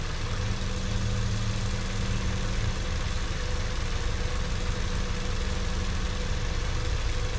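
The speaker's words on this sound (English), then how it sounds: "The engine just started pulling." A 2016 Ford Fusion with a faulty low-side fuel pressure sensor idling: a steady, even engine hum and rumble close by, with no speech.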